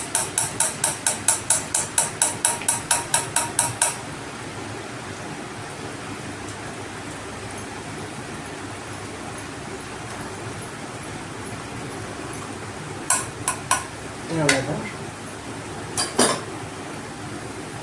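Perforated ladle tapped over hot oil to drop boondi batter: a quick run of metallic taps at the start, then a steady sizzle of frying, with a few more scattered taps later.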